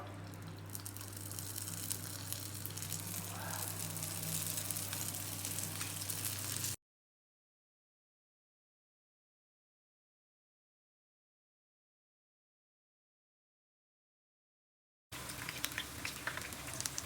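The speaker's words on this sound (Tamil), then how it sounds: "நம்ம ரெடி பண்ணி வச்சுருக்கிற மாவை சின்ன சின்ன பவுலாக அந்த ஆயிலில் அப்படி எடுத்து போட்டுக்குவோம்." Small balls of paniyaram batter fry in hot oil, giving a faint, steady bubbling sizzle, with a long stretch of silence in the middle before the frying sound returns.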